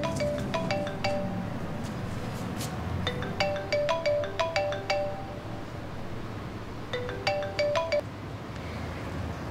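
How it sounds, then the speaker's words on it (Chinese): A mobile phone ringtone plays several bursts of bright, rapid chiming notes with short pauses between them, loud and close over a faint room hush. "我接个电话。"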